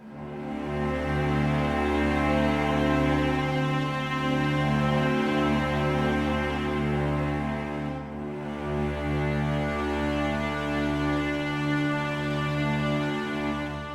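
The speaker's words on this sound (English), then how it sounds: "When the main theme starts, I also added cello and viola." Cello and viola hold simple, sustained supporting notes beneath a Witcher 3-style orchestral theme, a smooth continuous layer with one brief dip in the middle.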